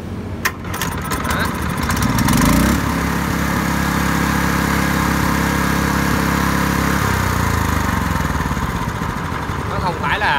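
A Kubota GR170 walking tractor, a 6.1 hp model, is started and settles into a steady, loud, close engine run that holds for most of the clip before dropping back slightly near the end. Speech is likely mixed in.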